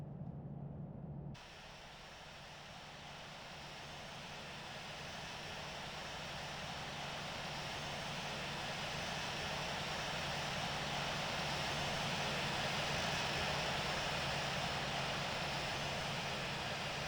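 Steady airliner engine drone while taxiing to parking in the Infinite Flight game, a broad continuous roar that slowly swells louder over the clip after a brief quieter start.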